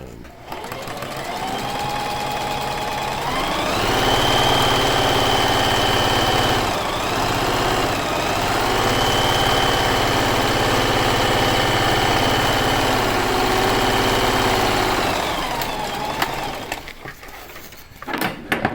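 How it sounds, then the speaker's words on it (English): Sewing machine stitching a surgical mask, a steady mid-pitched motor whir with rapid needle rattle running for about twelve seconds, briefly dipping once, ramping up at the start and winding down at the end, with a voice talking over it. "I center this in here and then just sew it on."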